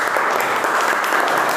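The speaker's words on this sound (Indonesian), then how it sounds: "Tepuk tangan untuk Mas Fahmi" Brief, dense applause from a classroom of students, loud and close, steady clapping throughout with no speech.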